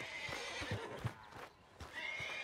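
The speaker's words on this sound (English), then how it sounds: "Need a hand with that horse?" A horse in Red Dead Redemption 2 gives a loud, close whinny, with hoof clip-clops and faint game ambience around it.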